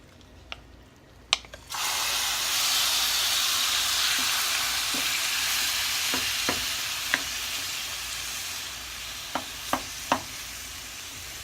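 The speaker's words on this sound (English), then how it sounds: "I'm going to add a little bit of vegetable oil to my pan. It is already hot, and I am going to add my carne asada to start cooking it" Carne asada dropped into hot vegetable oil in a pan: after a couple of clicks, a loud, sudden sizzle erupts and holds steady, broken by occasional spatula taps and scrapes near the end, close by with no talking.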